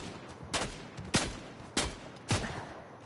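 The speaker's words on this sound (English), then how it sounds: "Where are they shooting me from?" Gunshots in a video game, four loud separate reports spaced about half a second apart over a low background, with no talking.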